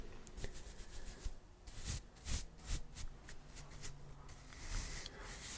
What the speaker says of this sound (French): 2 coups de brosse pour enlever les cheveux coupés et pour rediscipliner les cheveux que tu vas couper.